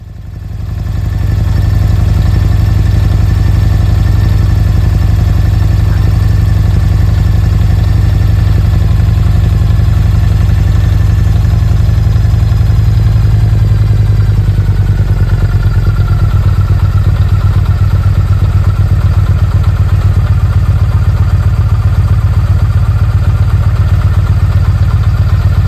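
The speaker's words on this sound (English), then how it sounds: "Start the bike up and let it run." A Yamaha MT-01 motorcycle idles steadily after being started while being readied for winter, a loud, close, continuous low engine rumble that holds alone, with a slight shift in tone partway through.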